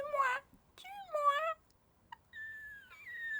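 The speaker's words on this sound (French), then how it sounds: "des fois, il miaule comme ça et j'ai l'impression de le comprendre" A house cat meows several times in quick succession, close and clear, with rising and falling drawn-out cries separated by short pauses in a quiet room.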